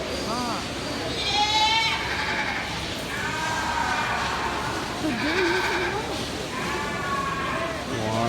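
Goats bleating repeatedly at a livestock show ring, with several wavering calls rising over a constant crowd murmur and announcer-style talk in the background.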